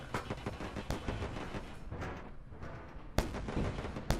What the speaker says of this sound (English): We are going to fire off the rest of our missiles so we get it right smack.